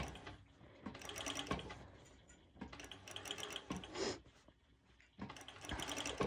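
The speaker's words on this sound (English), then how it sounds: "Zigzag stitch on your normal sewing machine" A home sewing machine runs a zigzag stitch on sportswear fabric in quick whirring bursts, stopping and restarting several times with mechanical clatter, close and fairly quiet.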